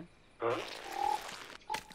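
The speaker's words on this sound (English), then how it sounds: "Frog." A frog lets out a loud, raspy croak, followed by a longer rattling call and a brief second croak, close and clear.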